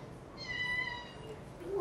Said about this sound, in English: do you want to say it's me, El the City Kitty